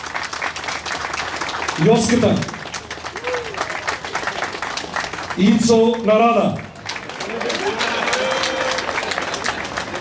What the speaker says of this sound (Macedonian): За сите молам аплауз.